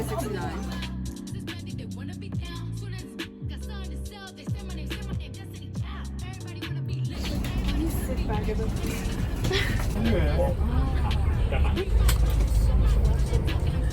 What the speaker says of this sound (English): We're already in the Hong Kong to Macau bus